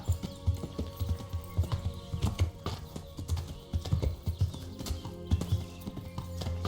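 A horse galloping in Kingdom Come: Deliverance, hooves pounding a steady rapid clip-clop close by, with faint background tones and no voices.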